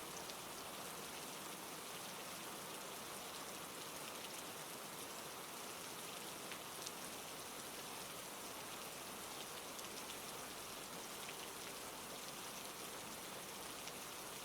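Storm rain falling heavily and evenly, a dense, constant hiss of drops on surfaces with no breaks or other sounds.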